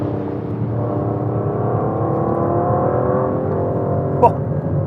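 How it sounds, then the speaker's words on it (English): An Aston Martin V12 Vantage driven hard on a track gives a steady, loud engine drone that holds throughout, with a brief sharp blip near the end. "I'm just going to drive it properly and quite quickly for a few laps"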